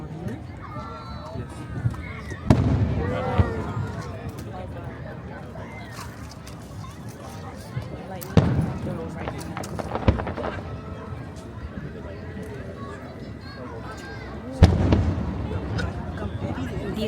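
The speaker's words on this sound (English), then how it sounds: "These fireworks are going right off of the downtown Annapolis." Fireworks bursting over the downtown Annapolis waterfront seen from the Spa Creek Bridge, a few sharp booms spaced several seconds apart over a steady crowd and ambient murmur.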